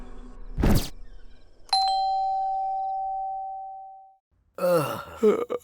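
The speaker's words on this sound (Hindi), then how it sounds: "दरवाजे की घंटी बज रही है।" A single electronic doorbell chime rings out and decays slowly, preceded by a brief thump and followed by a short throaty vocal sound.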